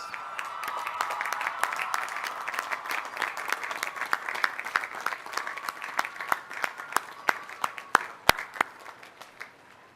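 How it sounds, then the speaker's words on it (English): Audience applause at an agricultural college commencement ceremony, a dense, sustained round of clapping that builds and carries on throughout, with sharper individual claps standing out near the end. "please join me in giving those people a well-deserved round of applause"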